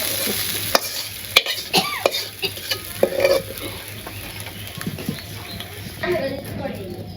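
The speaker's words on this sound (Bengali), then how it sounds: "আমার মাছটি ভাজা হয়েছে, নামিয়ে নিই" Fish sizzling in hot oil in a pan, a crackling frying hiss broken by sharp clinks and scrapes of a utensil turning or lifting the pieces, close by.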